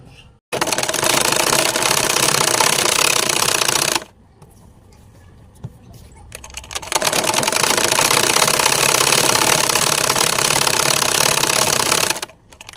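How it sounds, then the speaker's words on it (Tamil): A sewing machine runs loud and close, stitching the side seam of a nightie in two long continuous bursts separated by a quieter pause. "கையும் உடம்பும் பிடிச்சி தைக்க போகிறோம்"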